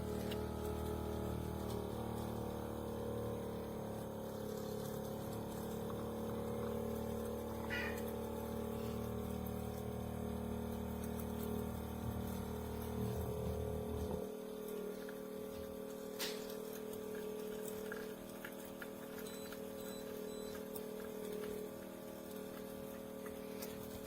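A COTGCO portable espresso machine on a low battery pumps out coffee with a steady buzzing drone and a faint ticking rhythm, then the heavy low hum cuts out abruptly partway through, leaving a lighter trickling whir.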